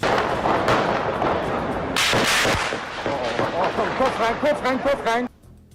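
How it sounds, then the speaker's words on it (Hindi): Rapid bursts of gunfire from a terrorist attack in Vienna crackle in quick succession, loud and sharp, with a voice speaking over the shots before they stop abruptly. "इस दौरान 100 राउंड से ज्यादा गोलियों की आवाज सुनाई दी"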